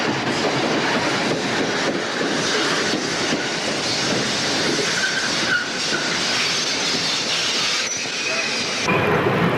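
An Erie Lackawanna westbound MU commuter train passing at Morristown, a steady close roar of wheels and carriages with light clatter and faint squeals running throughout.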